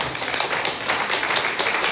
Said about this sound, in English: So let's give Joe a round of applause.